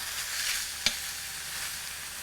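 Steak sears in clarified butter on a griddle, a soft steady sizzle broken once by a short sharp spatter.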